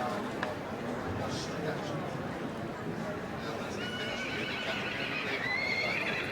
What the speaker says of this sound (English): Very nice cob stallion.